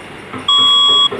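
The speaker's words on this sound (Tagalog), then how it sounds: "Says emergency warning system." An emergency alert system alarm tone from the Philippines blares loud and steady for about half a second, a sustained two-pitch electronic beep rising sharply above faint background noise.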